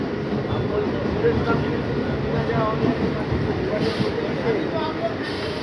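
A train rolls past at Khardaha with a continuous rumbling, hissing roar of wheels and carriages, steady and fairly close, while voices talk faintly in the background.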